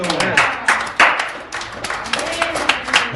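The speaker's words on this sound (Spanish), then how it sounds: "Un aplauso al Señor." A church congregation applauding, a crowd of hands clapping in uneven bursts with some rhythmic accents, fairly close, mixed with voices speaking over it.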